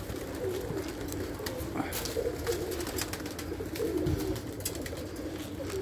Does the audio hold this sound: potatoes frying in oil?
no